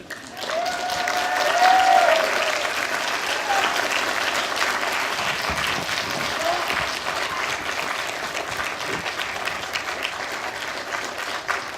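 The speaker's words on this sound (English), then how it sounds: "what I want them to do is to applaud for you" Sustained, loud applause fills a college commencement hall as the audience applauds the graduating class of 2012, a steady wash of many hands, with a brief voice at the start.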